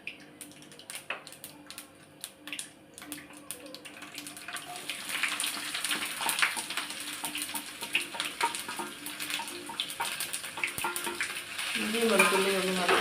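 Ginger and garlic hit hot oil just after mustard seeds have popped, giving a crackling sizzle with scattered sharp pops that builds and grows louder toward the end, close to the pan.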